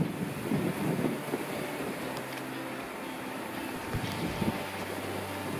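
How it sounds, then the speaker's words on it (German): Wind gusting outdoors on a dike, a steady broadband rush buffeting the microphone throughout with low rumbles and no speech. "Ich denke mal, ihr könnt es auch hören, ist recht windig heute."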